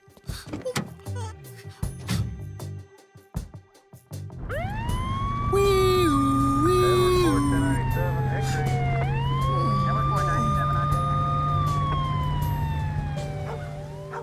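A police car siren starts wailing loud and near after a few seconds of mixed sounds and brief talk, then holds a rising-and-falling tone with a steady engine hum under it.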